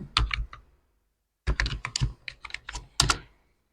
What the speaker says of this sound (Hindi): अब इसमें हम कुछ भी टाइप करेंगे